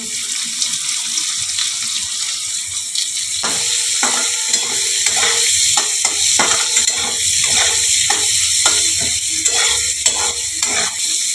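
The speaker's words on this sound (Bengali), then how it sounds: "অল্প করে একটু কালো জিরে দিয়ে দিলাম, পেঁয়াজ কুচিগুলো দিয়ে দিলাম" Onions and nigella seeds frying in oil for a Bengali bitter gourd dish, a steady sizzle with clattering stirring bursts growing busier after the first few seconds, close and fairly loud throughout with no talk.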